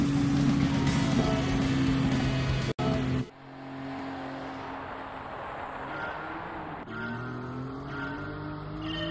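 Race car engine in Gran Turismo 7 accelerating out of a corner during a licence challenge, loud steady revs rising in pitch after a brief cut, strong and alone without talk.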